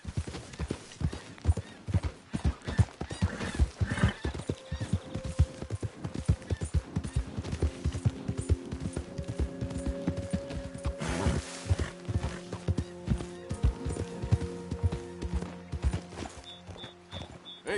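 Horse hooves clip-clopping in Red Dead Redemption 2, a steady close walking rhythm of hoof beats that carries on throughout, with a brief whinny and light game music underneath.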